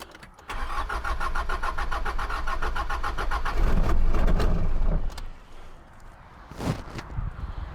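A car with a disconnected turbo exhaust pipe cranks and fires on a Noco Genius Boost Pro GB150 lithium jump starter, a rapid rhythmic cranking giving way to a loud, close engine catching and settling, followed by a few clunks.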